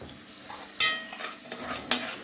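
Fava beans stirred in a frying pan: a soft sizzle under a few sharp scrapes and clanks of a utensil against the pan, close and fairly quiet, no talk.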